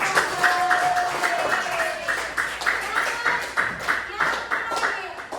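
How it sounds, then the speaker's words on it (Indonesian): Group of people clapping together in a steady, fairly brisk rhythm, with some voices mixed in underneath. "Oke, tepuk tangan untuk"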